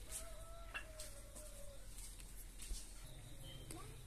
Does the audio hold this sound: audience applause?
no